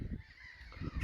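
Coots, water birds, give two short, harsh calls close by, separated by a brief pause.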